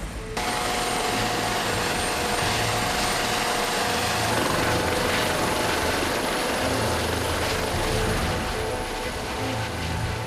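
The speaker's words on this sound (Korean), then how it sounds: "소방항공대 헬기도 이륙을 준비한다." A fire service rescue helicopter prepares for takeoff on a mountain rescue call in a national park. Its engine whine and rotor thrum are loud, steady and close for the whole stretch, with no voices.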